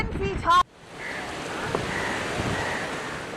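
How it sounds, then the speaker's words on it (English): Storm-driven sea waves surge ashore during Cyclone Yaas with a steady, broad wash of surf and wind noise. A brief voice is heard at the very start before the roar takes over. "let's see the waves coming almost till where we are, which is almost climbing 10 feet high"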